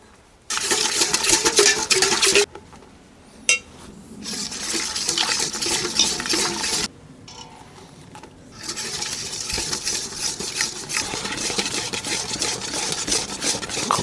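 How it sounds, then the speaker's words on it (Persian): Flour being stirred by hand into a liquid to make dough for stuffed dinner rolls, heard as close, continuous scraping and rubbing bursts broken by short quieter pauses, with no talking. "میتونید از این آردتون کم کم به این مایع اضافه کنید و دستی هم بزنید"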